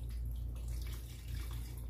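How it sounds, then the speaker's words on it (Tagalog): Water pours steadily into a coffee maker's reservoir for first use, a close, continuous splashing trickle with a low hum beneath it and no talk. "Sige, una, lalagyan muna namin ito ng tubig."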